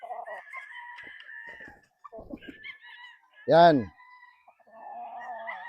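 Gamefarm fighting roosters being prepared for fighting, with one loud, close crow rising above scattered clucks and other birds calling, while people talk briefly.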